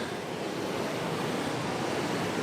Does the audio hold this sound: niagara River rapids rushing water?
yes